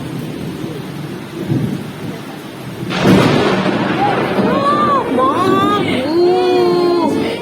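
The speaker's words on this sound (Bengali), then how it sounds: "ঝমঝম করে বৃষ্টি ফুটলো রেন দেখবে রেন রেন বাইরে রেন হচ্ছে" A loud downpour of heavy rain with a rumble of thunder, while voices talk and call out over the storm.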